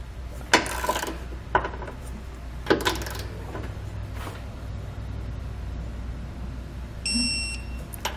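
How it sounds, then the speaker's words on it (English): A torque wrench tightens Curt trailer hitch receiver bolts on a 2019 Subaru Crosstrek, giving a few sharp metallic clicks spaced about a second apart over a low steady hum, with a brief electronic beep near the end. "I'm going to come back with a torque wrench. I'm going to torque all the hardware down to the specified amount in the instructions."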